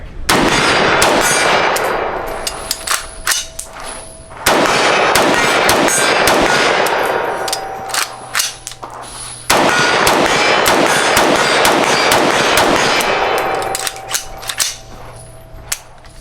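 A CMMG MK47 rifle firing surplus ammunition that has already been struck once, three loud rapid strings of sharp cracks ringing close, each burst cut off by a pause.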